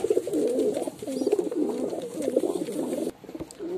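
Thavidal pigeon kept as a pet because of a bad leg, cooing in a steady run of soft, throaty coos close by, with a short pause near the end before the cooing resumes.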